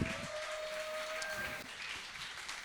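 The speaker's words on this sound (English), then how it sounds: "Round of applause." Faint, steady clapping from a crowd, a soft continuous patter with a thin tone running through it, fairly distant.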